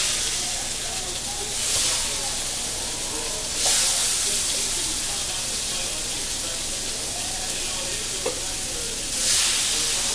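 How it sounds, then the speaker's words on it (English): Fish sizzles on a grill set to low heat, giving a steady close hiss and crackle with a few brief louder bursts of steam across ten seconds. "I don't grill fish real high. That's just gonna tear it up."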